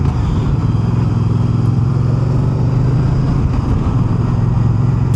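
Moto Guzzi Mandello motorcycle engine running loud and close as the rider shifts down through the gearbox to first, a steady dense rumble with no clear gaps.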